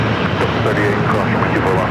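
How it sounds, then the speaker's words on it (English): Airbus A350-900 jet airliner from Shanghai at LAX airport, a steady broadband engine roar filling the whole stretch at constant loudness, with a voice talking faintly underneath. "From Shanghai and that A350-900."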